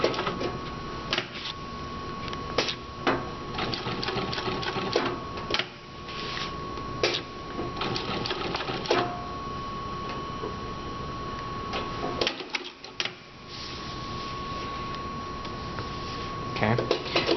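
A Juki sewing machine stitches with a steady, rapid mechanical ticking that runs on and off, close by, with a voice talking over it.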